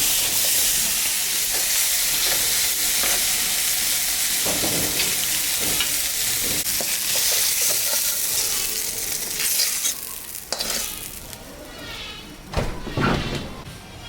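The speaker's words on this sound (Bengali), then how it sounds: "আমি মিষ্টি কুমড়া দিয়ে আর করলা দিয়ে ভাজা করলাম" Pumpkin and bitter gourd fry in a pan with a strong, continuous sizzle, broken by scraping stirs and clacks that grow more frequent near the end. There is no talking.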